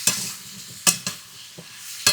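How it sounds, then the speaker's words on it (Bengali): Ash gourd pieces seasoned with salt and turmeric are stirred and lightly fried in a pan, with a few sharp scraping strokes over a soft, low sizzle. "এবার একটু নাড়াচাড়া করে নিই। হালকা ভেজে নিয়ে"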